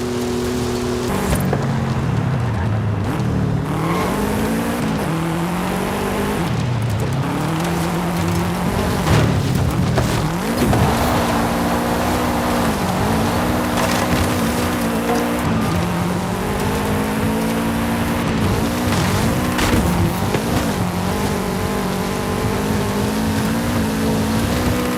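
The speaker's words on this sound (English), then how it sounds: "And the Ford is also very loud, meaning an experienced seeker can pinpoint one of these from behind buildings and walls over a block" A loud Ford engine roars in Forza Horizon 5 hide and seek, revving up and down repeatedly with rising and falling pitch over steady road and wind noise, close and constant throughout without voices.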